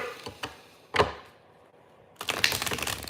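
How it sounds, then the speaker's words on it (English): Tarot cards riffle and snap together in short bursts, a quick shuffle, a pause, then a longer rapid flutter, close by. "Let's give it another shuffle."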